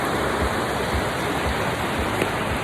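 Water flows and rushes along a Grand Canyon hiking trail, a constant broad roar heard up close and loud, with no voices.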